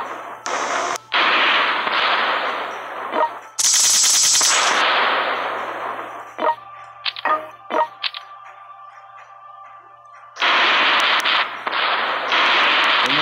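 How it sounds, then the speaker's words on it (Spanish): Cannon fire and explosions from the World Conqueror 3 strategy game, loud bursts of booming blasts with rapid crackling shots, separated by short gaps and a few isolated sharp hits, with no talking. "Atacaremos con los cañones."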